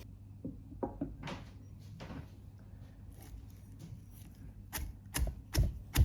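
Salt and chilli being pounded in a mortar for Sri Lankan pol roti sambol, giving a series of dull, irregular thuds that are sparse at first and grow heavier near the end, close by with no talking.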